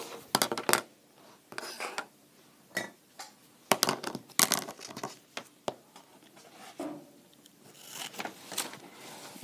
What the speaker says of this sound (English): take your scissors